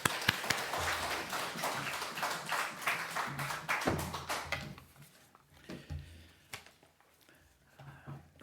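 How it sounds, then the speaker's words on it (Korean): Applause welcoming the pastor to the pulpit at a Sunday church service, a congregation's clapping that starts full and steady, then thins into scattered individual claps and dies away. "박수로 환영하겠습니다"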